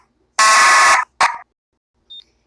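A fire alarm pulled at a school sounds in a cartoon: one long loud harsh buzzing blast, then a short second burst and a faint brief beep, with no talking.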